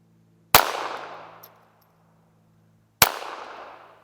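Two sharp pistol shots, about two and a half seconds apart, fired at a 4-inch steel plate at 100 yards; each crack is loud and close, followed by a long ringing decay with no voices.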